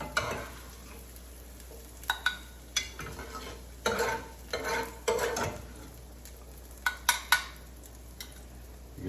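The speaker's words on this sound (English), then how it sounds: "I'm gonna get a slotted spoon and just going to transfer my vegetables to this bowl here." A slotted spoon scrapes and clinks against a pan while lifting cooked peas, carrots and onions into a bowl, with soft sizzling underneath and intermittent metallic scrapes and taps.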